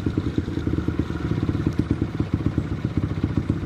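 A motorcycle engine with an adjustable racing CDI runs close and loud, with a rapid, even pulsing beat that holds steady throughout.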